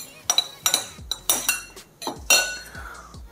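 A tablespoon scrapes and taps against a bowl while a parsley and chive mix is added to egg yolks, giving several bright clinks and knocks in a quick, uneven series close by.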